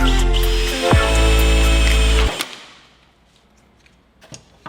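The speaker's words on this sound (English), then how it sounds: "Now we have to go ahead and drill holes." A loud power drill whirs steadily while drilling holes in metal for a strut tower brace, its pitch dropping briefly near the start, then cuts off abruptly, leaving faint clicks and quiet background.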